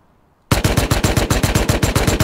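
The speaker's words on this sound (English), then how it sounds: "He's shooting a boar or something" Gunfire in the Rust video game, a fast, loud burst of automatic shots with an even rhythm, close and alone after a moment of near silence.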